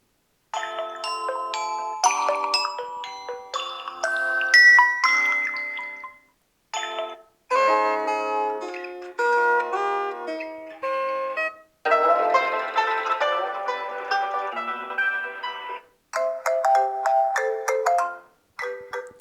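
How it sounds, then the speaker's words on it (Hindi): A melodic ringtone plays through the small loudspeaker of a ZTE Nubia A36 phone, bright chiming notes in repeated phrases with brief pauses, loud and close, no voices. "यहाँ पर रिंगटोन चला लेते हैं और देखते हैं कैसी स्पीकर की क्वालिटी मिलने वाली है।"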